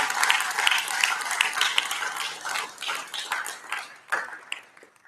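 An audience at an Adams County commissioners debate gives a sustained round of applause, dense clapping that holds steady, then thins and tapers off over about five seconds.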